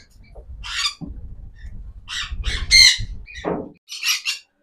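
A female pineapple conure parrot gives loud, harsh squawks in several separate bursts, close up, with short quiet gaps between calls.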